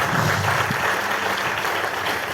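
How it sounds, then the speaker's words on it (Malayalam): An audience at a direct-selling seminar claps together in a dense, steady burst of applause that stays loud and even throughout. "ഒന്ന് കൈയടിച്ചേ,"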